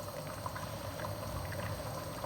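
A pot of chana pulao bubbles and simmers steadily, with continuous soft watery burbling and small pops at low volume and no voices.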